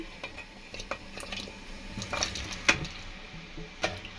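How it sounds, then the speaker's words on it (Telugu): Pumpkin pieces cooking in sugar syrup in a pot are stirred with a utensil, producing soft scrapes, light clinks against the pot and a faint wet squish, quiet and intermittent. "ఇలా చక్కెరలోనే ఉడికించుకోవాలి మనం గుమ్మడి ముక్కల్ని"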